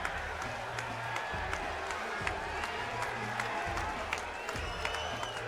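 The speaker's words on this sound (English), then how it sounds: "Crowd's getting behind this one." Crowd at a strength-contest sports event cheering and clapping for competitors, a steady moderate roar with scattered claps and a low hum underneath.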